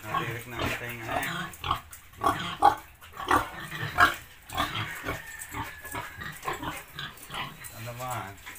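A pig on a small farm grunts repeatedly at close range in short irregular bursts, mixed in with people talking nearby.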